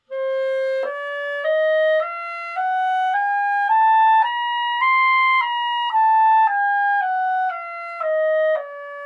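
A clarinet plays a quarter-tone scale in three-quarter steps from D natural, rising note by note and then descending, each tone held about half a second, clear and close with no talk.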